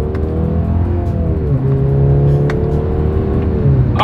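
A 2024 Mercedes-Benz C300 accelerates hard from first gear, its engine note loud and steady at close range and rising in pitch as it gains speed, with no talk over it.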